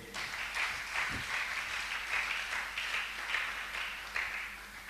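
A church congregation applauds during a sermon, a steady dense clapping from a crowd that stays loud across the whole stretch with no voices over it.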